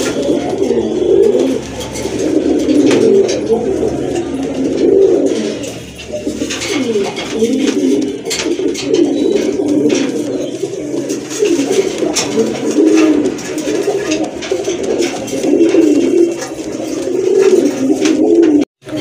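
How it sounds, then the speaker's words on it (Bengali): A breeding pair of pigeons coos loudly and close, with repeated rolling, throaty calls continuing almost without pause. "অসাধারণ এক জোড়া কবুতর, এটা কিন্তু ডিম বাচ্চা করানো একটা পেয়ার"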